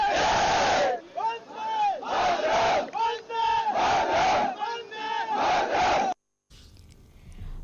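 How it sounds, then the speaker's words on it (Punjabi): A large group of Indian soldiers loudly chants Bharat Mata ki Jai in unison, the rhythmic call rising and falling about six times before it cuts off to near silence. "ਪ੍ਰਧਾਨ ਮੰਤਰੀ ਨੇ ਜਵਾਨਾਂ ਦਾ ਜੋਸ਼ ਵਧਾਉਣ ਲਈ ਭਾਰਤ ਮਾਤਾ ਕੀ ਜੈ ਦੇ ਜੈਕਾਰੇ ਵੀ ਲਾਏ"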